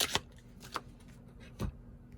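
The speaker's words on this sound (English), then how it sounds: "Let me pull the clarification card. One card, please" Tarot cards shuffled and pulled for an Aquarius reading, heard as a few soft riffling bursts and one firmer snap near the end, close and fairly quiet.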